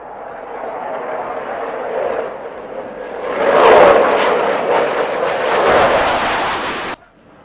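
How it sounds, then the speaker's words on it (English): An aircraft performing aerobatic rolls at the Aero India airshow in Bengaluru roars past, swelling to a loud peak midway and holding before cutting off near the end, while an announcer talks over it. "the aircraft is coming in for a series of neatly crafted rolls"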